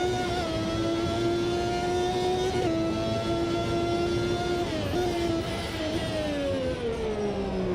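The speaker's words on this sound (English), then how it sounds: "When we go under the tunnel up here, the engine makes the best noise as you downshift." A Formula One car engine in the racing game Automobilista 2, on a 1990 Montreal circuit, drones loudly and continuously through a tunnel, its pitch stepping down in several distinct downshifts with no talking.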